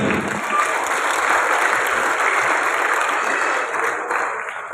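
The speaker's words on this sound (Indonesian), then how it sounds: "Berikan aplaus yang mulia untuk Bapak Trianto dan Bunda Apri." An indoor audience at a recognition ceremony in Sleman, Yogyakarta, gives loud, sustained applause for about five seconds, then the clapping begins to fade.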